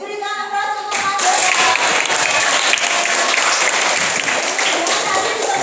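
A classroom of students applauds a classmate, with steady, loud clapping that starts abruptly and carries on evenly to the end after a brief moment of voice.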